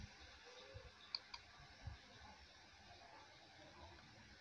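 A few faint, sharp computer mouse clicks sound one after another, quiet and close, over a soft background hiss.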